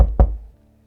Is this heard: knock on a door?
yes